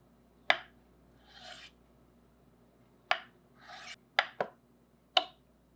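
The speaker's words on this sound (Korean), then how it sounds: "두부는 깍둑 썰기." A knife cuts tofu into cubes on a cutting board, giving about five sharp, quiet knocks at uneven intervals, with soft scraping sounds in between.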